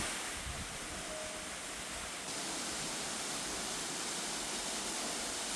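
Twin Pahusi waterfalls roar as a steady, loud broadband rush of falling water, close and unbroken, with no voices.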